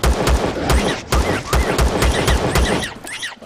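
Rapid bursts of automatic gunfire from the Empyrion Galactic Survival video game, loud and close, with sharp repeated shots in quick rhythmic volleys and a brief pause near the end.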